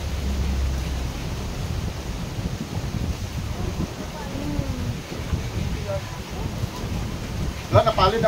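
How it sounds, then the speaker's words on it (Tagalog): Strong wind gusting at a driftwood beach, a continuous rough rumble and buffeting against the microphone, with people talking in the background. "Lakas ng hangin dito."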